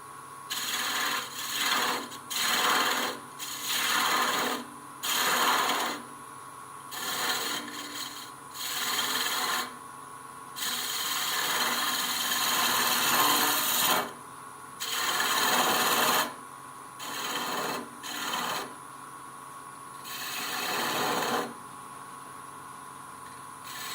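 Snowman-themed Christmas pen being finished on a wood lathe, heard as repeated rasping, rubbing bursts of a few seconds each, separated by short pauses, fairly close and loud.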